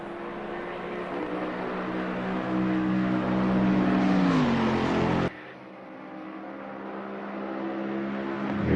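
A race car engine in a Spa qualifying sim race, powering steadily up the long pit exit, revving higher before a sharp gear change, then climbing again, loud and alone.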